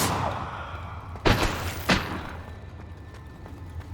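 Bombarda blasting spell impacts in Hogwarts Legacy, two heavy thuds about half a second apart, each with a short burst and a fading rumble, followed by a few light clicks.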